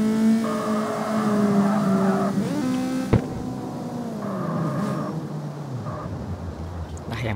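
In the CarX Street racing game, a car drifts with a sustained tire squeal over a droning engine note that shifts in pitch, then a sharp thump and another squealing slide, loud and close, with a voice speaking at times.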